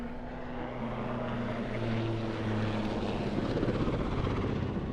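A Swiss Air Force Super Puma helicopter performs at an airshow, its rotor and turbine roar filling the air as a continuous, fairly loud drone with a faint rhythmic beat, steady throughout.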